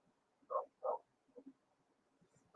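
A dog barks twice in quick succession at moderate volume, followed by a few softer yips and a louder bark or yelp cutting in at the end, with no talking.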